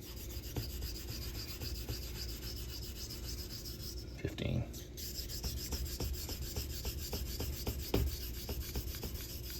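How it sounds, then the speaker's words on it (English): Steady, repeated rasping strokes of a vintage straight razor being honed with rolling X strokes on a coticule stone, close and even in rhythm with a brief louder scrape midway. "then 15 rolling X strokes, and then we'll check the bevel"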